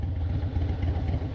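A motorcycle engine idles steadily just after startup, a low rumbling burble that stays close and even throughout, with no talk.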